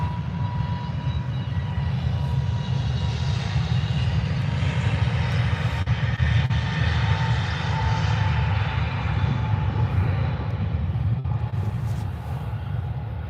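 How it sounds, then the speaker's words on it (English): A Jet2 Airbus A321 departs Birmingham airport, a loud, sustained roaring jet rumble with a broad hiss that holds steady over many seconds from a distance, with no voices. "Jet2 A321 heading out."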